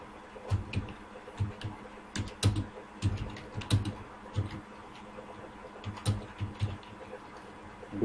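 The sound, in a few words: typing on a computer keyboard in MS Word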